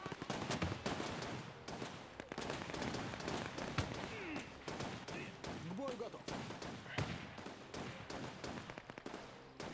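A machine gunner fires in the Men of War 2 battle, with many sharp automatic bursts and single shots crackling throughout, some near and some distant, under faint speech.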